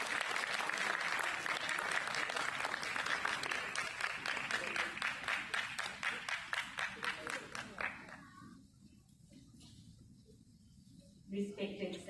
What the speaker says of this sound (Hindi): कृपया जोरदार तालियों से